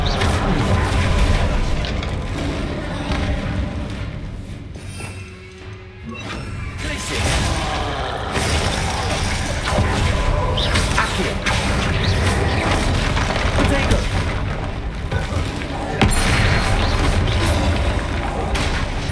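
Bombarda explosion spell in the Hogwarts Legacy video game: dense, loud game action with booming blasts, crashes and thuds, a brief lull midway, then continuous explosive clatter.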